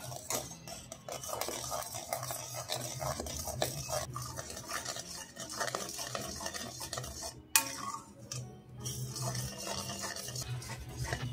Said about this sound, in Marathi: आता यामध्ये आपण बेसन पीठ टाकूया आणि व्यवस्थित मिक्स करून घ्यायचं आहे आपल्याला इथे।